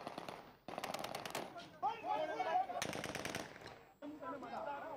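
Rapid bursts of gunfire ring out during by-election clashes at a polling station in Mardan, several quick volleys spaced apart with shouting voices in between, heard at a moderate distance and fairly faint.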